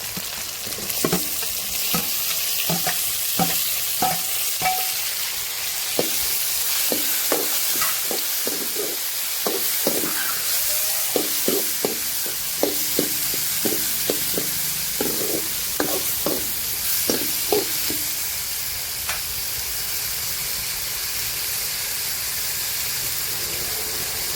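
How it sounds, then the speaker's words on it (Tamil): Garlic, onion and tomato sautéing in a pan for a village-style dried fish curry, heard as a constant loud hiss and sizzle with a run of rhythmic spatula scrapes and taps in the middle. Nobody talks. "இப்போ நம்ம போட்ட அந்த பூண்டு, தக்காளி எல்லாம் நல்லா வதங்கி வந்துருச்சு."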